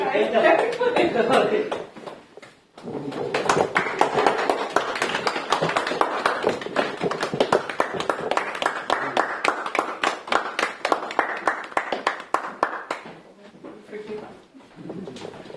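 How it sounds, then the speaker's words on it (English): Audience at a club meeting applauding three speakers standing on stage, a steady run of clapping lasting about fifteen seconds, moderately loud and close, with voices and a chuckle mixed in. "all these speakers need a little bit of applause for their attempts"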